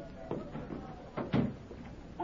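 A door in an old 1937 radio drama opens with a couple of soft wooden knocks and a creak amid low background hiss, while voices murmur faintly around it.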